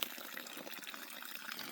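Water from an old artesian well pours and gushes steadily close by, a continuous bright splashing flow with no voices.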